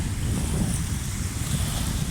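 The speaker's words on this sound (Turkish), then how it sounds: "Burada şu anda hem rüzgar var, hem dalga var" Steady wash of sea waves breaking on the shore at Şarköy, Thrace, Turkey, with gusting wind buffeting the microphone, continuous and fairly loud, no voices.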